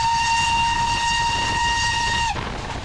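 A steam locomotive on the approach to Wolsztyn station in Poland sounds a long, loud, steady whistle that cuts off abruptly, leaving the rumble of the moving train carriages.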